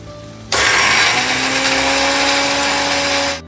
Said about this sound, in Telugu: ఇప్పుడు మిక్సీ వేస్తున్నా.